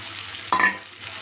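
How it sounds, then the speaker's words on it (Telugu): Eggs dropped into a hot pan of sautéed aromatics for egg fried rice, a short sharp sizzle burst that flares then settles back to a quiet background hiss. "వేగినాయి కదా అప్పుడు ఈ ఎగ్స్ కూడా ఇందులో యాడ్ చేసుకుంటున్నాను"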